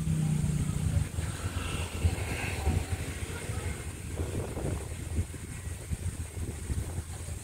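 Wind gusts buffeting a microphone outdoors on a grassy cattle pasture, a steady low rumbling roar with broadband hiss that runs unbroken through the whole stretch and eases slightly after the first second.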